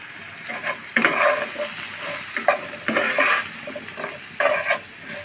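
Spices with turmeric powder sizzle in hot oil as they are stir-fried, with repeated scraping bursts of stirring over a steady crackle, close and fairly loud.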